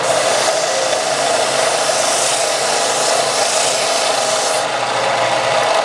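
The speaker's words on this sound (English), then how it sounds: "take this to the belt sander and make sure that this is nice and smooth" A belt sander runs continuously at close range, smoothing a guitar fretboard with a steady, loud abrasive whir and no pauses or talk.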